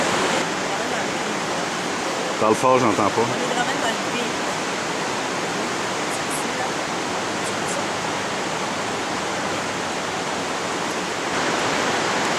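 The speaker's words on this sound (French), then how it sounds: "Toujours la rivière." A river rushes as a dense, steady roar filling the whole clip, with a short burst of talk partway through.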